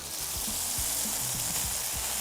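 Melted butter sizzles on a very hot griddle, a steady close frying hiss with light crackle and a few soft scraping touches, no talking.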